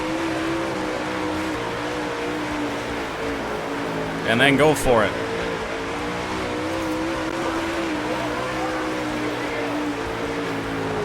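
Dirt late model race car engine in a racing video game drones steadily throughout, rising briefly in a revving burst midway, with someone talking over it.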